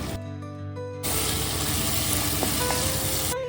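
Ginger garlic paste hits a pan of softened onion and tomatoes and gives a loud, steady sizzle. It starts abruptly about a second in and holds through near the end, with faint stirring scrapes.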